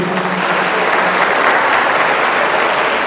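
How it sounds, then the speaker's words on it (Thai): Dense, continuous audience applause welcoming the university rector, Assistant Professor Dr. Kasem Chanawong, at a graduation rehearsal, loud and even with no pauses. "ขอเสียงปรบมือต้อนรับท่านผู้ช่วยศาสตราจารย์ดรกระสมชนะวงศ์อธิการบดีวิชัยประดิษฐ์เอเชียค่ะ"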